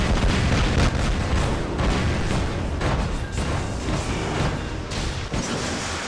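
Explosions and heavy booms in the robot combat game War Robots, loud continuous rumbling blasts with several sharper impacts layered over dense battle noise, no speech.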